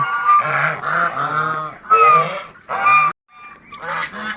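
Loud, close honks of white Chinese geese in a series of harsh, nasal calls, several birds overlapping with brief pauses between bursts.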